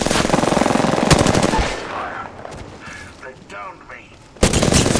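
Apex Legends gunfire fills the first seconds with a dense, loud automatic burst, drops to quieter scattered game effects and a brief spoken word, then a heavy volley erupts again at the end.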